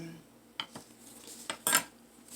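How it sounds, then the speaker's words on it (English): A knife slices through fondant on a hard surface for a bow decoration, giving several separate close clicks and taps, with a louder scraping knock near the end and no talking. "As you can see, I'm just going ahead and cut it."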